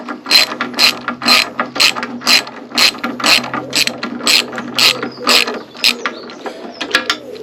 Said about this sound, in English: There is a nut to remove to loosen it off. Just need a socket on there.